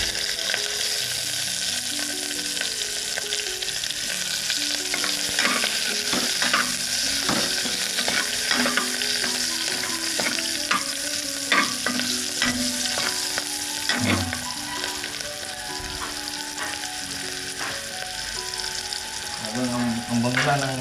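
Onion, garlic and ginger fry together in hot oil in a pan, a steady close sizzle broken by repeated scraping and clinking of a spatula stirring, with a faint hum of tap water in the background.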